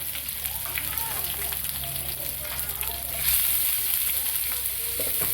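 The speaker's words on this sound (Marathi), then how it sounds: "कांदा लाल होईपर्यंत छान परतून द्यायचा." Chopped onion sizzles and fries in a pan with curry leaves and garlic, a steady close crackle that swells slightly partway through as it is stirred.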